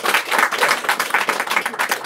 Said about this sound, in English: Everybody, give him one more round of applause.